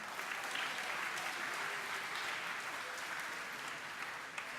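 Steady applause from an audience at a high school commencement, honoring parents and families, sustained and even throughout with no voices over it.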